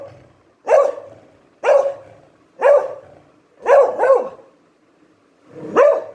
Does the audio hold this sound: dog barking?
yes